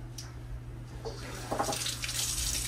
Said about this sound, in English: So we'll just let it sit there and finish draining out.